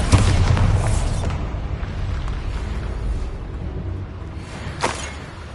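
A Bombarda blast spell from the Hogwarts Legacy video game detonates with a loud booming burst at the start, then a long rumbling decay and a second sharp crack near the end.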